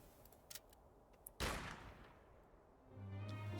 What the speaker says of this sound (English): Still don't know who my snipers are shooting at